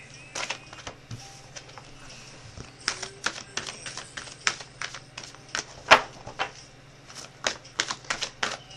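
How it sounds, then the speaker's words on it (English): Tarot cards are shuffled by hand in quick irregular bursts of crisp riffles and flicks, close and fairly quiet over a low steady hum. "while I'm over here shuffling"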